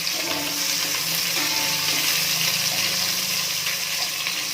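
Onions fry in a pan for Kannada-style cabbage rice bath, giving a steady, loud, even sizzle with no voices.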